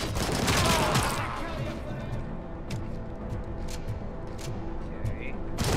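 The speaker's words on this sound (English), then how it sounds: "See, assault rifle works." Assault rifle gunfire in the video game RoboCop: Rogue City rings out as a dense, loud, continuous barrage of rapid shots. It fills the whole stretch without a pause.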